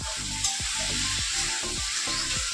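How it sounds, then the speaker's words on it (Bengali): Bitter gourd fries in a pan with a constant, close sizzle, while a rhythmic stirring or scraping repeats about every half second underneath. "দেখো ওদিকে তো রান্না বসিয়ে দিয়েছি আমি, দুই পাশে দুটো, একদম উচ্ছে ভাজা"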